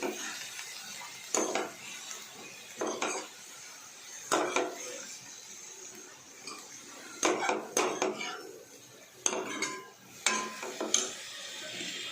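A spoon scrapes and knocks against a pan over low heat while coriander leaves are mixed into a tempering of cumin, dried red chillies and ginger for coriander chutney, giving intermittent clinks and scrapes with quiet gaps between.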